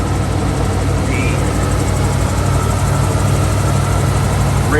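A 1978 Ford Bronco, an original survivor truck, idles steadily with a deep, continuous low rumble that stays loud and close for the whole stretch, with no voices over it.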